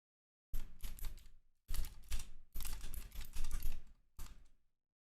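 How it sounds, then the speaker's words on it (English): A computer keyboard clatters close to the microphone in quick clicking bursts separated by short silent pauses, each burst a rapid string of keystrokes, with no talking. "I also hear the sound of my clickety clackety keyboard."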